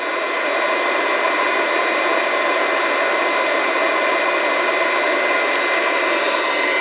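Magnetic induction heater kit running while heating a part cherry red, giving a loud, steady, unbroken high hum and hiss that holds constant from start to finish.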